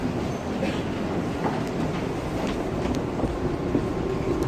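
An NYC subway train, an R160 or R188 car at the 34th Street–Hudson Yards station on the 7 line, rumbles steadily close by with rattling wheels and faint squeals throughout.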